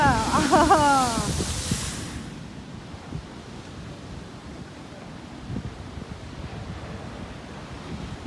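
Pacific Ocean surf on the Oregon coast near Yachats makes a continuous rushing wash with gusting wind noise on the microphone, after a brief voice at the very start.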